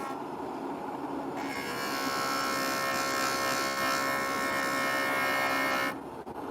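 A JOOLTOOL lapidary machine whirs and buzzes as it grinds a labradorite cabochon, the pitch rising into a steady, higher grinding whine for about five seconds before dropping back.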